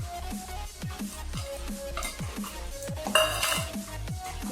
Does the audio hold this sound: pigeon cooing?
no